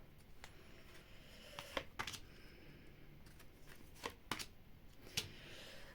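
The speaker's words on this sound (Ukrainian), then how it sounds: "на три карти давайте і будемо ті три карти розкривати" Quiet handling of tarot cards, with soft shuffling and several sharp flicks and slaps as three cards are laid down one by one.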